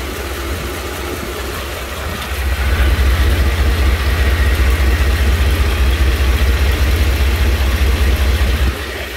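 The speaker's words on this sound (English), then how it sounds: "Sitting under a running truck is interesting." A truck engine idles, heard from directly underneath the running vehicle: a loud, steady low rumble that swells heavier partway through and holds, then eases slightly at the end, with no talking.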